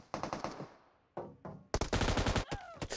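Loud bursts of automatic gunfire from PUBG Mobile, rapid rattling volleys broken by brief pauses, with single shots and a short rising whine near the end.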